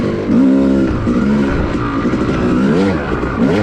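An off-road motorbike engine drones on an OHV cycle trail, loud and close, with its pitch rising and falling as the rider eases the throttle on and off. No voice can be heard.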